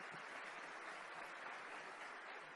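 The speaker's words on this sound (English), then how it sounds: "request everyone to give a huge round of applause to all the speakers" Conference audience at an ICAI international professional panel gives the speakers a sustained round of applause, a dense, even patter of many hands clapping continuously at a fairly distant, moderate level.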